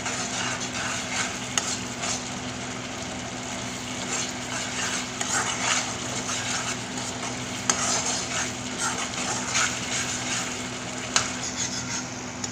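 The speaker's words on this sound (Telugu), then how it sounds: "వాటర్ పోసి గ్రేవీ దగ్గరికి అయ్యేలాగా ఇలా కలుపుతూ ఉండాలండి." Chicken 65 gravy with added water is stirred in a pan, giving a continuous soft bubbling sizzle and scraping, with occasional light clinks of a spoon against metal and a faint steady hum underneath.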